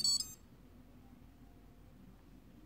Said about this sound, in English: We should hear a sound, ESC beep, if everything works.